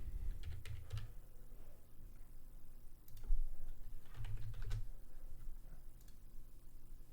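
Keys tapping on a computer keyboard in short bursts of quick, light clicks with pauses between, close and fairly quiet, no voices.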